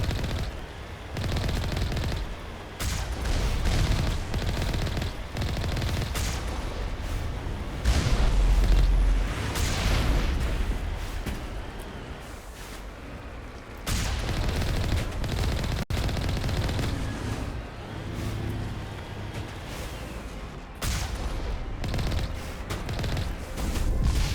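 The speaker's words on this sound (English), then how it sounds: "Oh, rockets. Multiple rockets." Multiple rockets fire and blast in Mass Effect, with repeated loud booming detonations and rattling bursts layered over a heavy rumble, rising and dipping in waves throughout.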